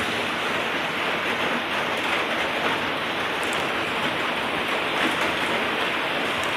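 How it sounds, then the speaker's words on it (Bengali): Heavy, unbroken rain pours down with gusting wind during Cyclone Remal, a dense loud hiss filling the whole stretch without letup and no voices. "বাইরে যেরকম হাওয়া সেরকম বৃষ্টি হয়ে যাচ্ছে"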